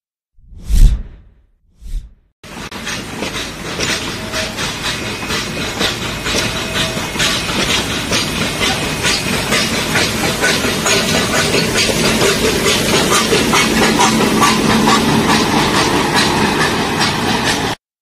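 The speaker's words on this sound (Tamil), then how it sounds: "மேட்டுப்பாளையத்திலிருந்து ஊட்டிக்கு மலை ரயில் இயக்கப்படுகிறது." The Nilgiri mountain train, with four coaches, runs from Mettupalayam to Ooty. Two dull thumps are followed by a loud, continuous rushing rumble with rhythmic clatter of the passing cars that builds slightly.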